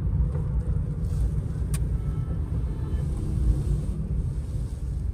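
A car pulls up to park in front of a Hyundai showroom, its steady low engine rumble and road noise sounding close and continuous, with no voices.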